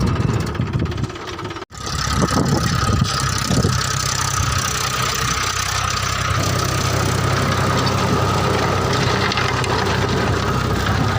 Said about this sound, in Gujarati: આ ટ્રેક્ટર આવી ગયું છે.